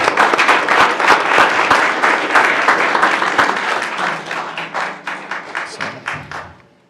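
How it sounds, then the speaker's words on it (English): Round of applause from an audience at a board of education meeting: many hands clap loudly at first, then thin into fewer, sharper individual claps that taper off as a voice begins at the end. "So I would give her a big round of applause"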